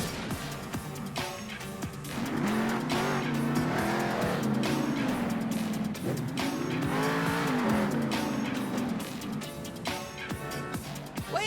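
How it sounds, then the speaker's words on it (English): A monster truck in Monster Jam Steel Titans revs and roars up close, its engine pitch climbing and falling through wheelies and stoppies, with tire squeals and skids over a steady, loud drone. "Try to do a wheelie and a stoppie for me."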